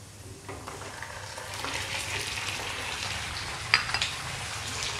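Steady sizzling of chicken frying with browned onions in a hot pan, with soft stirring and a few sharp crackles near the end; no one speaks.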